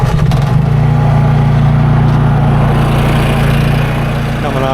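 A Honda EU3000is portable inverter generator drones on without a break, fitted with an exhaust extension, a low even motor tone that holds at a constant pitch throughout and sounds close by.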